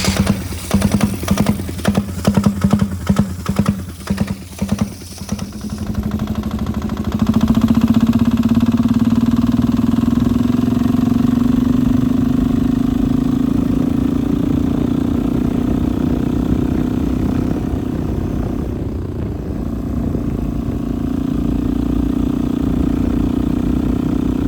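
A turbo diesel go kart engine with a boost gauge is pulled over with decompression engaged, chuffing in rapid rhythmic pulses. It then catches and runs loudly and steadily close by, with its pitch rising slowly as fuel is added.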